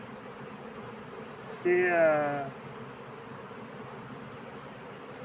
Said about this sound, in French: c'est impressionnant le volume d'abeilles qu'il y a dans cette colonie